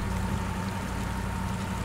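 In the off-road driving game Spintires, a truck drives into water: a constant low engine drone blends with a churning, sloshing wash, loud and steady throughout with no talk.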